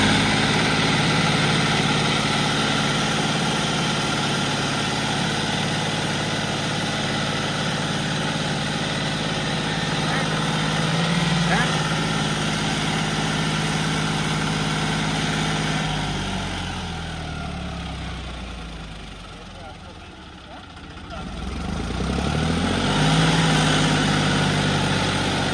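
A Kirloskar 4x4 tractor fitted with a John Deere 5050D front section idles steadily in Hanumangarh, Rajasthan, a continuous low diesel rumble with a brief dip in pitch and loudness before settling back, no voices.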